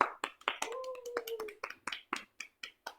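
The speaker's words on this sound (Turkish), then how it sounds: "Alkış." A few people clap in scattered, uneven bursts after a chickpea (leblebi) eating contest, sharp close hand claps spread over a few seconds with a brief tonal sound in between.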